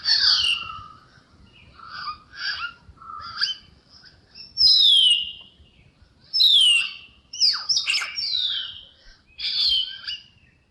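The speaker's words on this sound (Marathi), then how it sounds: "White bellied short winged." A white-bellied shortwing sings a delicate series of high, clear whistles and chirpy phrases, repeated in quick bursts with short gaps, close and alone against a silent background.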